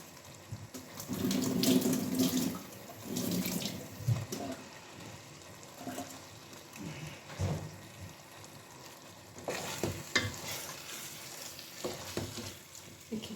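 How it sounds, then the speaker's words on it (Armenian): Boiled water pours into a cooking pot in a couple of short splashing bursts, close by, with quieter clinks and stirring between them. "Ջուր ավելացնեմ, որ չկպվի տակը։"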